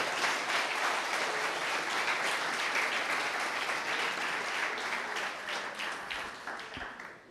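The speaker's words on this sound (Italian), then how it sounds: "Un applauso per tutti." Steady applause from a large audience at a formal ceremony, a continuous dense patter of many hands that gradually fades toward the end.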